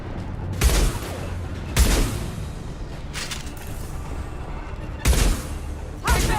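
Gunfire in the video game Mass Effect 2, heard as four separate loud sharp bursts spread over several seconds, with a low background hum between shots.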